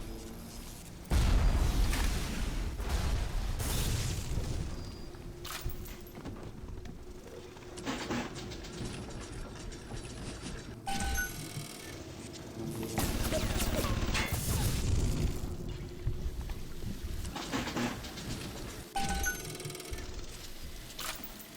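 A turret fires at enemies in BioShock, producing loud bursts of shots and crashing impacts that come in waves, with quieter stretches of ambient noise between the fighting.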